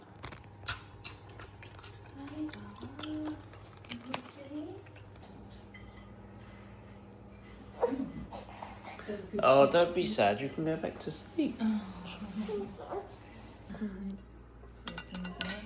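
A dog crunches a crisp carrot, with several close, crackling bites clustered together while someone talks nearby in a quiet room.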